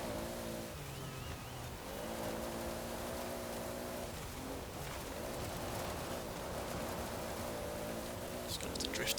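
A 2013 Toyota GT86 in Forza Horizon 4 drives over wet gravel off-road, its engine droning steadily with shifting revs and gear changes, loud and continuous with faint gravel crunch underneath.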